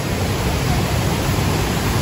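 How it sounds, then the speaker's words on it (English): Ulu Petanu waterfall in Ubud, Bali roars as a loud, dense, unbroken rush of falling water, close and steady, covering everything else. "That's the place for the tourists doing the waterfall"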